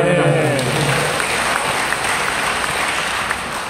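Audience applause at a health and religious lecture, a steady wash of clapping filling the room for several seconds, moderately loud and continuous with no voice over it.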